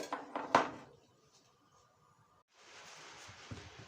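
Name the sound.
chopping zucchini on a cutting board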